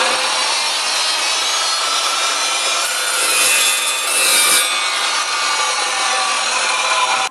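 An Evolution EVOSAW380 saw cuts through a piece of metal, a loud, steady, harsh grinding roar that holds for several seconds with a brief rise in intensity midway, heard alone without talk.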